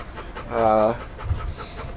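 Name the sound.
dog panting near the camera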